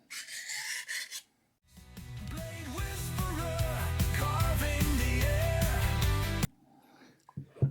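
A Farberware cleaver is drawn across inexpensive diamond sharpening plates, a loud continuous rasping scrape lasting several seconds after a brief quieter pass, ending abruptly.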